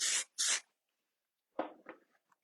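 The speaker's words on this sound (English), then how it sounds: "I'm going to add a little more texture spray here." Texture spray goes onto styled, curled hair in an updo, two quick, close hissing bursts, then a pause and some softer rustling handling sounds.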